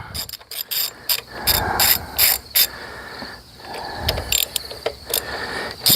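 A ratchet wrench clicks through several short bursts while loosening a bolt on a Mercedes 190E, close and fairly loud with brief pauses between runs of pawl clicks and no talking.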